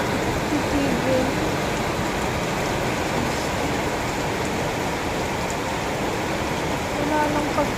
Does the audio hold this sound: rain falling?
yes